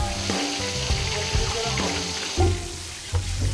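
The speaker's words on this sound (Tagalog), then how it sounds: "kapag hindi na daw maingay yung pumiprito, ibig sabihin, luto na siya" Food sizzles and crackles steadily in hot oil, close and loud, with occasional clunks of a utensil stirring the pan.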